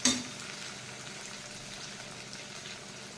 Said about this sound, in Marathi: नंतर आपण याच्यामध्ये शेंगदाणे टाकले आणि ही छान होऊ द्यायची फोडणी.